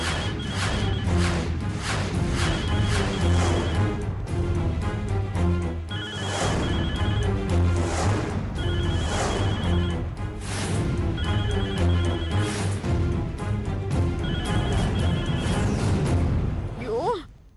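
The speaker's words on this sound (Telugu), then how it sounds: "ఏ తులసి, ఫోన్ తీయటానికి ఇంతసేపు ఏంటే?" A telephone rings repeatedly without being answered, bursts of ringing recurring in a regular pattern over a steady background score in a comedy serial scene.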